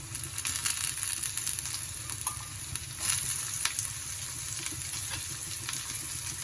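Small cut potato pieces fry in a pan with a steady, soft sizzle, broken by occasional clinks and scrapes of a stirring utensil, with no talking.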